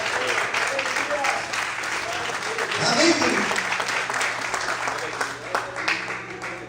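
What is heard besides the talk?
congregation applauding in church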